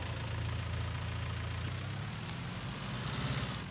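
A tractor engine idles steadily in the Farming Simulator 19 video game, out on a field during baling work, giving a constant low droning rumble that stays even and loud throughout with no talk.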